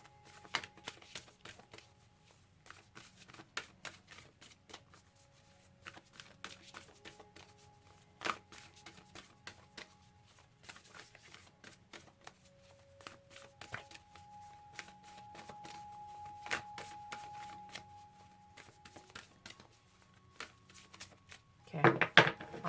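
A deck of tarot cards is shuffled for a reading, giving soft, repeated riffling and patting bursts throughout while a voice talks quietly over them.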